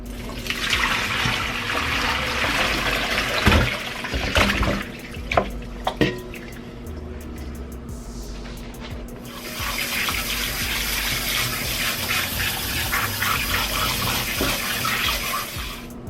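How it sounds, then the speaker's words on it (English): Cool tap water runs steadily into a kitchen sink while raw chicken legs are rinsed, a loud continuous splashing stream that briefly breaks into handling splashes and drips midway before flowing on. "Rinse the chicken legs several times in cool or cold water."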